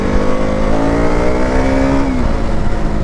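A KTM Duke 200 BS4 motorcycle engine revs hard at full power, a loud, close, steady high-pitched roar that climbs for about two seconds and then drops off as the throttle closes, with no talking.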